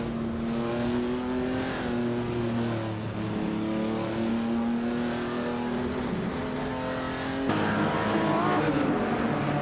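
A 1956 Maserati 450S engine in a racing game drones loud and steady at high revs, with pitch shifts from gear changes and a brief lift near the end.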